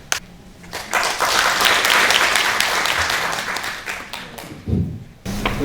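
Audience applause at a 2019 memorial ceremony for Dr. Lee Young-choon, a dense burst of clapping that swells quickly, holds steady for several seconds, then cuts off near the end.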